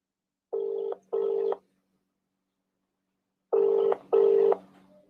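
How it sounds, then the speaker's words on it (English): A telephone line gives a ringback tone, two paired double rings separated by a quiet gap, clear and close as an outgoing call waits to connect. "Let's give Anil a call"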